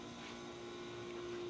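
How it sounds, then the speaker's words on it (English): A commercial ice machine runs with a steady mechanical hum and constant whirring drone, moderately quiet and unchanging throughout, with no talking. "The noise you hear is our ice machine."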